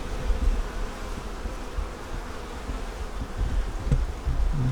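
Honeybees buzz steadily in an opened double-deep eight-frame hive on a winter day, a dense continuous hum close by, with a few soft knocks and handling sounds near the end.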